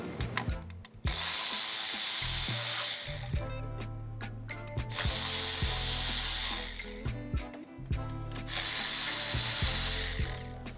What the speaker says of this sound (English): I'm just gonna loosen all of them out.